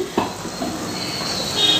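A pot of sambar (South Indian lentil stew) bubbles and sizzles at a steady simmer, with a single utensil clink at the start, heard up close.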